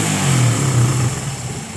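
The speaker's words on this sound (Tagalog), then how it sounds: "Matapos po nating ma-tune up, ito na po yung nangyari sa kanyang motor." Suzuki Raider 150 motorcycle engine running after a tune-up, a close, loud steady idle with a brief rev that settles back down.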